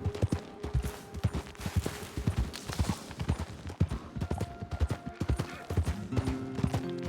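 Horse hooves clip-clop in an irregular, steady rhythm across gravel within the Red Dead Redemption 2 game world, sharp close thuds repeating throughout with faint creaks and game ambience behind them.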